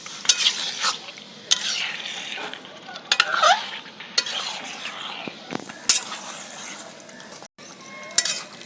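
Chicken pieces for biryani being stirred in a pot, with a spoon scraping and clinking against the metal over a soft sizzle, repeated strokes in an uneven rhythm, close and fairly loud.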